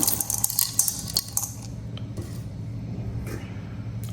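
Fried lentils for homemade chanachur are poured into a bowl, producing a quick rattling clatter of dry, crunchy pieces at first that fades into a few scattered light clicks, close and alone.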